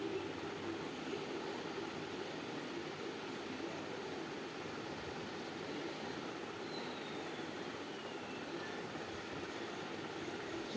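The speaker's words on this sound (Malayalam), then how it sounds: "ഈ സമയത്ത് ട്രെയിൻ എങ്ങനെ സ്റ്റാർട്ടായ" Steady, faint rumble of a train running in the mobile game Indian Bike Driving 3D, a continuous even drone of rolling wheels throughout with no speech.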